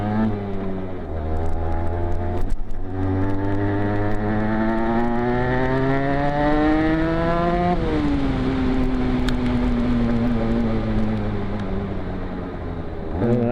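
An Aprilia RS 125 two-stroke motorcycle is ridden on a road, its engine buzzing steadily and rising in pitch through the gears, close and continuous throughout.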